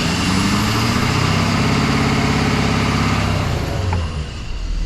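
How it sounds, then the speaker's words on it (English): A Ford 6.7 Power Stroke diesel truck engine runs loud and close after a rebuild, its drone and turbo whine gradually winding down before easing off near the end. "Let that turbo slow down a little bit before I turn it off."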